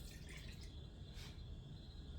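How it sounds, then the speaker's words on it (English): Tap water running from a kitchen faucet while measuring water for caraway rye bread dough, a faint, steady hiss of flowing water with no other sounds. "Now we are going to add 3/4 of a cup of water just from the faucet."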